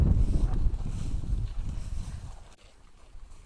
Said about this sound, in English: Oh, it's windy.